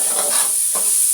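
Spices frying in hot oil in a pan for pachadi, a soft continuous sizzle with stirring scrapes, close and steady for a brief moment with no talk.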